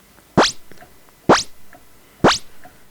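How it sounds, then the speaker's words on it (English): A Moog Matriarch synthesizer plays a kick drum shaped by a fast pitch sweep, three evenly spaced, punchy hits, each a short, loud tonal thump that quickly fades. "we are going to use the filter envelope to do a quick pitch sweep"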